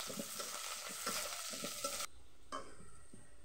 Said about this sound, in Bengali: রসুন আর পেঁয়াজ দিয়ে দিলাম।